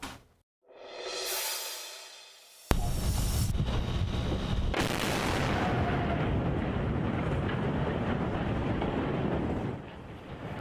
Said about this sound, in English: demolition crews detonating explosives on the wreckage of the collapsed Baltimore Bridge